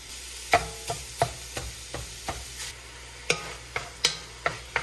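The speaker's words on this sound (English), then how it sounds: "sausage has almost completely cooked, and there is a little bit of fat coming out now" Italian sausage cooking in a pan for tortellini soup, with a soft sizzle under about a dozen sharp spatula taps and scrapes spaced roughly every half second, close up and with no voices.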